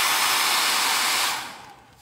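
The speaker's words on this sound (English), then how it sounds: "I want you to have to listen to that hair dryer." A hair dryer blows steadily and loudly, drying a coat of milk paint, then winds down as it is switched off near the end.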